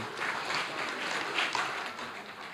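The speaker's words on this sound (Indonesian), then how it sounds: "Tepuk tangan buat teman-teman." An audience at a corporate sharing session claps together, a moderately loud, steady patter of applause with slight swells before easing toward the end.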